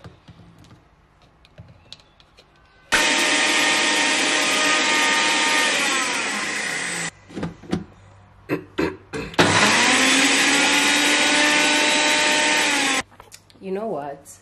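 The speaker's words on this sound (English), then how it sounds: "If there was a blender at home when I was growing up," A kitchen blender whirs loudly in two long bursts of several seconds each, the motor pitch settling as it runs, with brief clatter and quiet talk in the pauses between.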